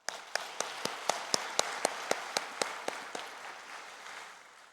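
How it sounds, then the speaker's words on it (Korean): A church congregation at a Sunday morning service claps in unison, about a dozen sharp, evenly spaced claps that then trail off into a softer scattered patter. "우리 이 시간 서울 시민들의 노고에 감사하는 마음을 담아 응원의 박수 한번 치겠습니다"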